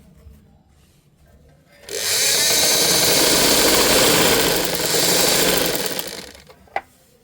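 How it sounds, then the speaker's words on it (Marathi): Sewing machine stitching a strip of fabric from old clothes for a sitting mat, quiet at first, then a loud steady buzzing run of stitching for about four seconds before stopping, ending with a sharp click. "आता उभी पट्टी आहे, पूर्ण आपल्याला याला शिलाई मारून घ्यायची."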